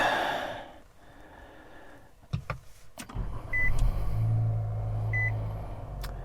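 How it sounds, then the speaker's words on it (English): A 2023 Nissan Sentra SR is started from inside the cabin, a brief crank followed by a low, steady idle hum that settles in close to the microphone, with a couple of faint chime tones above it. "let's fire this thing up."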